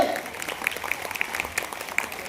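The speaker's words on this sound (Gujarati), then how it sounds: "તાળીઓ પાડવાને એટલી ઉતાવળ કે ના પૂછો" Audience clapping for eighth-grade students at a Prajapati youth association student award ceremony in Anand, a steady dense applause of many hands held at an even level throughout.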